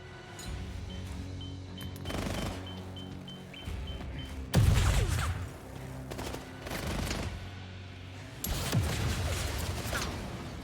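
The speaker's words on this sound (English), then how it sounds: "Throwing stun grenades." Stun grenades go off in the video game 007 First Light. Sharp, loud blasts hit around the middle and again near the end, over a busy bed of gunfire and mechanical game noise.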